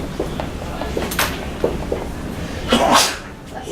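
A single loud sneeze nearby during a silver nitrate chemistry demonstration, with small clinks and room noise before it.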